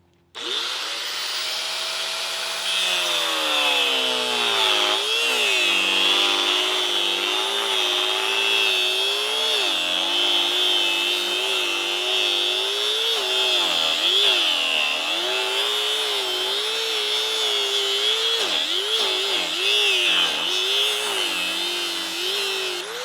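A power saw cuts through bolted-down wooden 4x4 posts, its steady high whine running nearly nonstop and dipping and wavering in pitch as the blade loads up in the wood. It is loud and close, with no talking.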